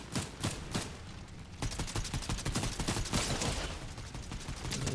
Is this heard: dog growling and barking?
no